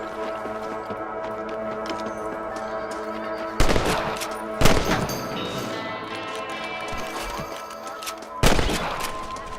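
Sharp rifle shots from Red Dead Redemption ring out singly at spaced intervals, each a loud crack over a steady background of ambient game music and noise.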